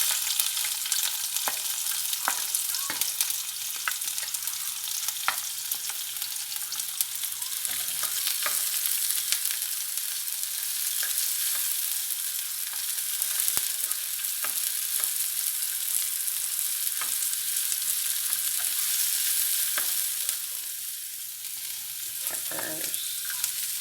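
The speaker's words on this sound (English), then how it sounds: "I'm gonna start first by sauteing my onions and garlic" Onions and garlic sauté in oil in a pan for a Jamaican callaloo loaf. A continuous close sizzle runs throughout, dotted with scattered clicks and taps of a utensil stirring, and eases slightly toward the end.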